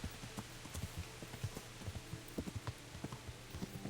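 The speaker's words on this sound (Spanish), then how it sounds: "Ahí viene el caballo, el que guía el perro." Horse hooves clop steadily in Kingdom Come: Deliverance, a soft irregular rhythm of repeated hoofbeats moving closer against a quiet ambient background.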